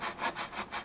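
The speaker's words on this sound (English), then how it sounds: "Just widening the slot part down below and trying to get more crap out." Fret slot in a guitar fretboard being cleaned out with a small saw or file, several quick back-and-forth rasping strokes in a steady rhythm, close and fairly quiet, with no talk.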